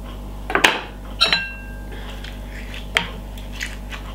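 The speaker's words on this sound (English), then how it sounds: "use the table knife and cut it down like this" A table knife slicing down through an avocado, giving a few sharp clinks and taps against a hard surface, spaced out and close by, with no voices.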